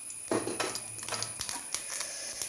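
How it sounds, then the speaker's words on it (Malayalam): Mustard seeds spluttering in hot oil in a Kerala cheenachatti on the stove: quick scattered pops and crackles, some sharp and close, spread unevenly over a steady faint background hiss. "കടുക് പൊട്ടുന്നുണ്ട്."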